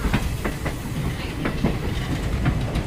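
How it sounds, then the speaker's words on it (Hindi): A train runs along the railway track near a junction, with a steady rumble and rhythmic clickety-clack of wheels over rail joints, close and fairly loud. "उसी ट्रैक पे हमारी ट्रेन आ रही है"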